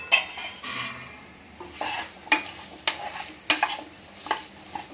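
Drumstick pods and carrots stir-frying with turmeric, cumin and fenugreek powder in a pan: soft sizzle under sharp, irregular clinks and scrapes of a metal spoon against the pan, close up, with no voices.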